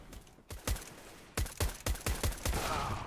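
Gunfire in the video game CS:GO: several sharp, punchy shots in quick bursts, some doubled, over a low background hum, with no talking.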